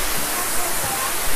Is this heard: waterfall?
yes